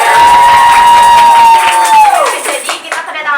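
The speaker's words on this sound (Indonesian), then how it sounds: "Tepuk tangan dulu guys" A school crowd at a Bandung high school cheers and whoops loudly for the visiting headmaster, with a sustained whistle or shout over the noise that fades off near the end.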